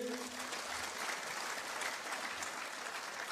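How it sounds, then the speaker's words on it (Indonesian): Steady applause from a crowd at a university event, dense and continuous throughout, with no voices standing out. "Tepuk tangan dulu buat UCB."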